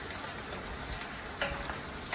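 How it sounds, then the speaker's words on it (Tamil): Semolina sizzles and crackles in hot oil in a pan with onion and green chilli, a steady close frying hiss with a few light stirring clicks, no voices. "ரவை போட்டு இதிலே வதக்க போகிறோம்."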